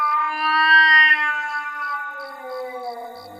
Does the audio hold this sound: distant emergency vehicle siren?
no